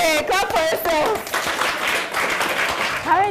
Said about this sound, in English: Okay, clap for yourself.